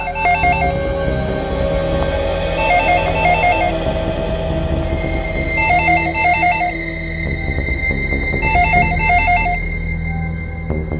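A telephone rings in a repeating electronic pattern of several bursts, loud over a dense, droning background score.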